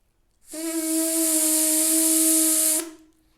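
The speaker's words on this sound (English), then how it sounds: "take a deep breath and blow lots of air through my lips" A loud, airy, steady lip buzz through a brass mouthpiece rim, with a bright hissy edge and a low sustained pitch, held for about two seconds, then cut off.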